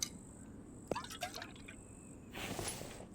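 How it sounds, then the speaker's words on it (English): Water drips and trickles into a bottle being filled in the survival video game The Infected, with a few distinct liquid blips followed by a brief louder splashing pour, all fairly quiet. "And we will fill up our water bottle again."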